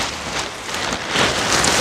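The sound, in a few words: hail and rain falling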